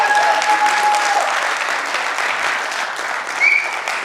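A theatre audience breaks into loud, sustained applause after a Hindi stage play, a dense wash of clapping that holds steady for the full few seconds without a break.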